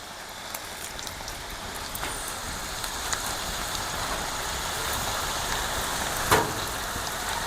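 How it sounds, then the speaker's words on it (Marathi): Heavy monsoon rain in the Konkan pours down as an even, dense hiss that holds steady throughout, with one brief louder knock near the end. "पाऊस सरासर"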